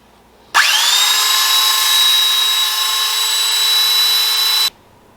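A power sander grinds rust off a meat cleaver with 220-grit paper, a steady high whine that starts abruptly and holds for about four seconds before cutting off, loud and close with no talk.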